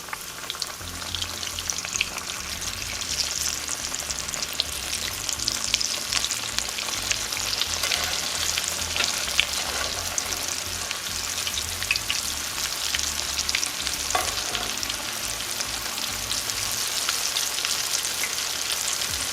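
Steady, close crackling and sizzling of bean and potato tacos deep frying in hot oil, a dense bubbling hiss that continues throughout with no voices.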